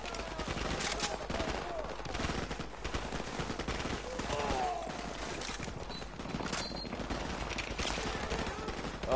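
Dragunov rifle fire in a console shooter game, with dense rapid gunshots and bursts layered with other weapon fire throughout, while a player talks over the action.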